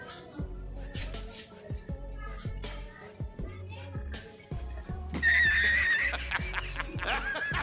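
A mare being made to climb onto a cot gives a shrill whinny in the second half, rising over loud rhythmic dance music with laughter and chatter around her.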